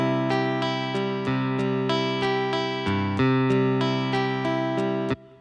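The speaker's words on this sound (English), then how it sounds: "Really nice electric guitar sound with a little bit of effect on." A Korg keyboard pad plays an electric guitar arpeggio with a light effect in 6/8, evenly plucked notes in a steady repeating pattern with sustained ringing tones and a brief change midway.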